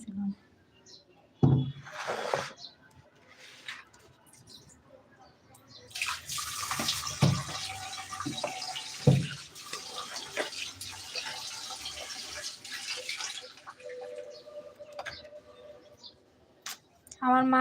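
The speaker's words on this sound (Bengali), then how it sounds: "মাছগুলো অনেকবার করে ধুয়ে নেয় লবণ দিয়েও ধুয়ে নেয় যেন গন্ধটা না থাকে" Water runs and splashes as fish is rinsed repeatedly, with salt used in the washing; the flow swells in the middle and comes with occasional knocks and drips, while voices talk around it.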